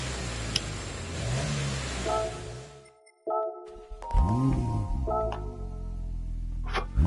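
Car engine in Gran Turismo 7 revving in short bursts, with rising and falling pitch sweeps, a brief cut to silence, then throaty gurgling revs that climb again, moderately loud and alone.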